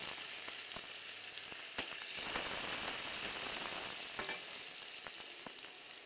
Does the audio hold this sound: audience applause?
no